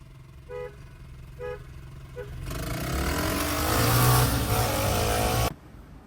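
Three short, evenly spaced horn toots from a DIY go-kart converted from an ATV buggy, then a loud engine roars up and revs for a few seconds before cutting off abruptly.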